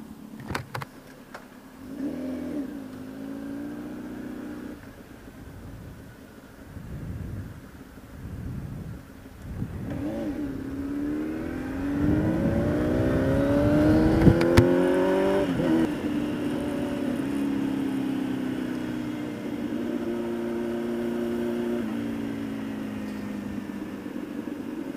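A motorcycle engine revs hard under repeated throttle blips at an outdoor moto event, each rise sweeping upward to a loud peak before settling into a steady high idle.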